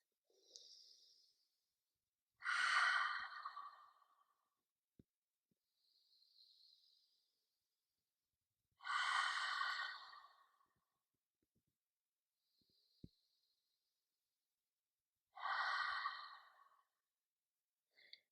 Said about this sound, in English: we'll do 3 cleansing breaths here. Breathing in through your nose and out through your mouth